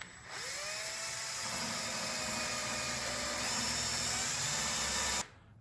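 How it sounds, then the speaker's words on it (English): A power drill sanding a handmade drop point knife whirs at a steady, slow speed with a thin whine for about five seconds, then stops abruptly. "The slow speed of the drill is actually working to my advantage"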